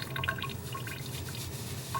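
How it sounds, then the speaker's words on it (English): A wet shaving brush lathering shave soap: quick, close squelching and dripping sounds in an irregular rhythm, soft and continuous, with nothing else heard. "and then just start lathering"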